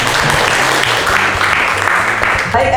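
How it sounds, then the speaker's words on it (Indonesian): Lecture audience of students clapping after a class quiz, a steady burst of many hands, with voices and a low hum underneath. "Tepuk tangan untuk kita semua"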